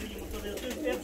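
Ornamental fancy pigeons in a crowded loft give soft, continuous cooing close by, with a steady low murmur of many birds underneath.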